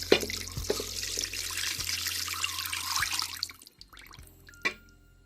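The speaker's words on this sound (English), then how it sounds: "Now I'm going to add in my beef broth." Beef broth poured into a slow cooker as a steady close splash of liquid for about three and a half seconds, then tapering to a few drips and a final clunk.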